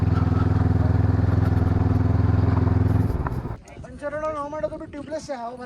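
A motorcycle engine rumbles steadily and loudly on a ride through Leh in Ladakh, then cuts off as the bike is parked, leaving muffled voices and street bustle.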